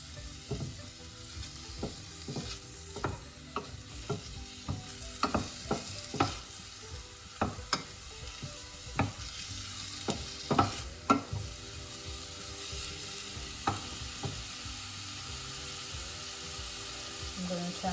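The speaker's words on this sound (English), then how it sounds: "once you hear it start to sizzle, you can turn the heat down a little bit" Onions and garlic sizzle steadily in a hot pan, with repeated scraping and clacking as a utensil stirs them at irregular intervals.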